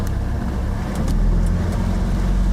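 A budget boat's engine idles in gear at 780 RPM with a low, steady, close rumble and no talk.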